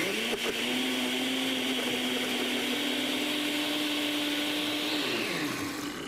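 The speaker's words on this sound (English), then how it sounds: "we toss some cilantro, avocado, a couple cloves of garlic into the blender" A blender whirs steadily at close range, churning cilantro, avocado, garlic cloves, olive oil, mayo, lime juice, salt and pepper into a dressing, a constant motor drone for about five seconds before winding down.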